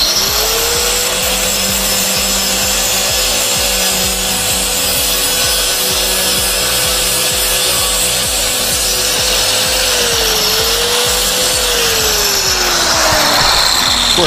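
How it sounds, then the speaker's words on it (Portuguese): A marble saw cuts through wood with a loud, steady, close-up power-tool whine and gritty rubbing, sustained throughout with a slight pitch dip near the end, and no voices. "Cortando com a serra mármore é bem prático"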